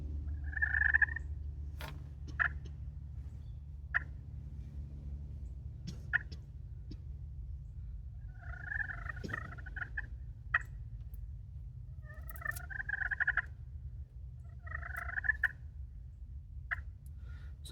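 A hunter's turkey call imitating hen purring and clucking: short sharp clucks spaced a second or two apart, mixed with rolling purr bursts, close and clear over a low steady hum outdoors.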